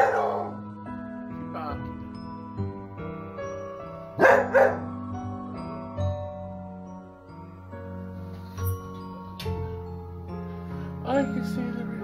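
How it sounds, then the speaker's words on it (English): A beagle barks a few short, sharp times on indoor stairs, with pauses between barks and a faint hum beneath. "What you barking at?"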